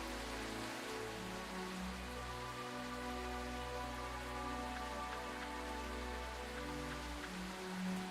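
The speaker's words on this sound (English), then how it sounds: "The rain is really loud." Steady rain ambience from the video game Helrift, a continuous hiss of rain on surfaces with soft patter, heard alone at an even, quiet level with a low background hum beneath it.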